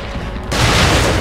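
A grenade blast in The Evil Within, a sudden loud explosive burst with a crackling, rumbling tail that follows a short stretch of lower background noise.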